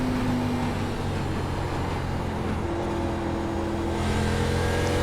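A 2008 ARCA Menards Series stock car engine at Phoenix Raceway oval in the iRacing sim drones loudly and steadily, a continuous roar with a sustained pitch that rises slightly partway through, no talk over it.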